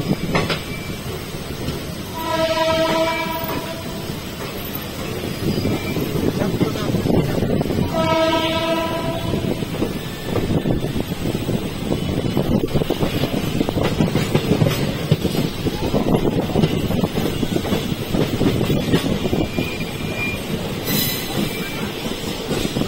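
A passenger train rumbles along the Bareilly–Tanakpur line near Banbasa, its wheels and carriages droning steadily while the horn sounds two short blasts early on, followed by a long, even rolling roar.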